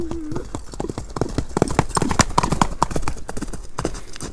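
Hooves of a ridden horse clip-clop in a quick, steady rhythm of sharp close hits on firm ground, with faint background noise.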